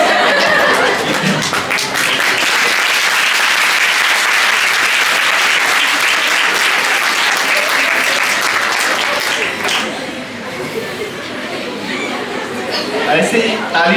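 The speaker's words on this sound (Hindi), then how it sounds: "अभी जो तालियां बजाया ना हमने" Loud, sustained audience applause at an International Women's Day event, thick and continuous for about ten seconds before thinning out, with chatter and a voice speaking afterward.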